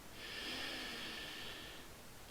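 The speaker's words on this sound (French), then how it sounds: "Donc simplement, on va inspirer" A deep, slow inhalation through the nose during a Taoist breathing exercise, a steady airy hiss lasting about two seconds, soft and close.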